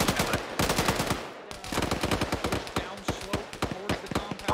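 Rapid bursts of machine gun fire from a winter warfare military game crackle in quick repeated strings with brief pauses between them.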